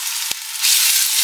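Ginger garlic paste fries in a hot pan, a bright, steady sizzle that swells louder partway through, with a brief clink or stir near the start.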